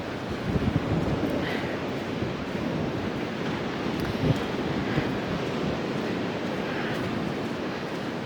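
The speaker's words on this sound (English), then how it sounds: "I'm just fascinated by the real strength of the sea today. Those waves" Rough sea with strong waves on a stormy day, a constant roaring surge mixed with heavy wind buffeting the microphone, with no talk.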